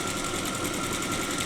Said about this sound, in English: and I'm just gonna sew